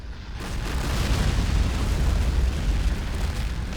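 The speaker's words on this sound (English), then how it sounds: "the T-90 is just absolutely nailing the Abrams. One shot, one kill" Heavy tank cannon fire in Men of War, a T-90 shelling an M1A1 Abrams: a loud, continuous rumbling blast with dense low-end roar sustained for several seconds, no voices.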